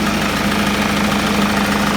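A freshly refitted 2-litre diesel engine in a Ford Mondeo Mk5 runs steadily at idle, close and loud, with a constant knocking clatter and no voices.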